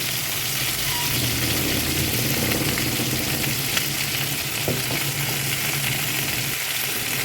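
Chicken wings frying in a covered pan give a steady, dense sizzle that runs unbroken and fairly loud from start to finish, with a couple of faint knocks near the middle.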